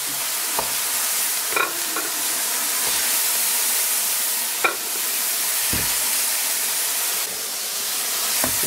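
Mushroom and onion frying in a pan, a steady sizzling hiss running throughout with occasional light scrapes and clicks of stirring close by, no one talking.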